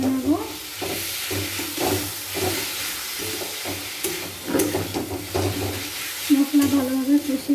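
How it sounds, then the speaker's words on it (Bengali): Ginger garlic paste and spices fry and hiss in a pan as a spoon stirs and scrapes in repeated strokes, close up, with steady sizzling underneath and a brief tonal squeak near the end. "ভালো করে নাড়াচাড়া করে নেব।"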